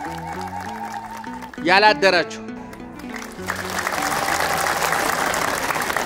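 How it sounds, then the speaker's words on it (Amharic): A church congregation breaks into loud, sustained clapping that fills the second half, after a voice speaks over background music and a brief shout. "ደሞ በልብ ሙሉ ነው የምታጨበጭቡት"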